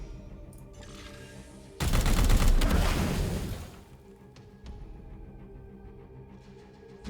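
A burst of heavy gunfire in the turn-based tactical game Chaos Gate: Daemonhunters, a loud dense volley lasting about two seconds and then fading into low ambient game music and hum.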